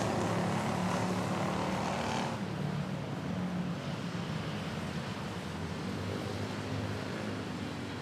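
Boeing 777 airliner taking off at Manila Airport, a steady, loud broadband jet roar that holds through the whole stretch and eases slightly after the first couple of seconds.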